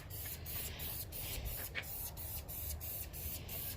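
LMR dye is sprayed from an aerosol can onto a Foxbody Mustang interior quarter panel, giving a steady close hiss broken by short pulses about every half second.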